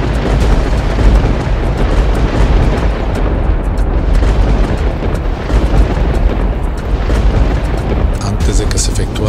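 Artillery shells exploding in a battle bombardment at Chapultepec Castle, a dense, continuous roar of loud booms and blasts with no pauses, heavy and close throughout.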